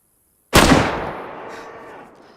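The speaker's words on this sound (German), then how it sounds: "ist der erste Schuss daneben gegangen?" A single sharp gunshot in DayZ fired at a cow, a sudden loud crack after half a second of silence followed by a long fading tail.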